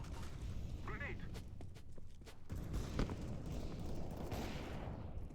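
Gunfire and grenade blasts in a video game sound as sharp, repeated cracks and bursts, some in quick runs. A voice talks over parts of the action.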